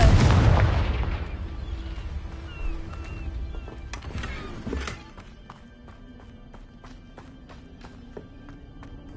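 A Confringo blasting spell explodes in the Hogwarts Legacy video game, one loud booming burst up front that fades into a long rumbling decay. Scattered lighter clicks and pops follow over quiet ambience.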